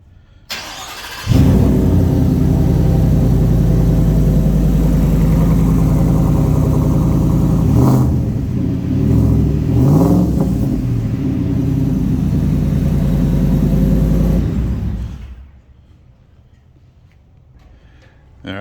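Supercharged Ford F-150 pickup with an MBRP cat-back exhaust fires up from cold, settles into a loud, deep rumbling high idle with a couple of revs, then shuts off abruptly into near silence.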